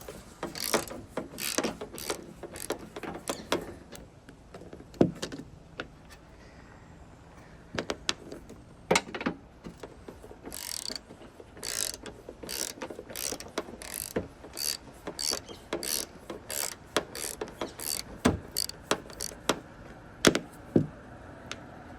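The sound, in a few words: ratchet undoing a 10mm bolt on a Mazda MPV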